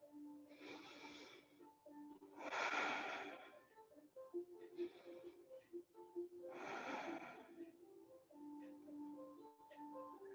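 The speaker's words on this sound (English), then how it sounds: "Take 3 more breaths." Slow, deep yoga breaths during a guided standing balance pose: three or four long, airy inhales and exhales rise and fall at an unhurried pace over a soft, sustained tonal background.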